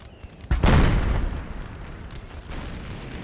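Cannon firing canister shot in an American Civil War battle in Napoleon Total War, one loud booming blast followed by a rumbling decay and a fainter second report.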